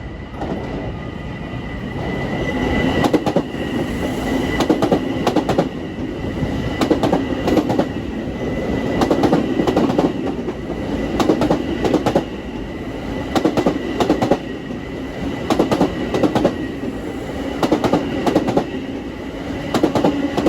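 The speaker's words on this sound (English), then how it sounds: "Got a westbound equipment train at 4:41." A Long Island Rail Road westbound equipment train rolls past Mineola station, its steady loud rumble and clickety-clack of wheels over rail joints sustained throughout with faint squeals and no voices.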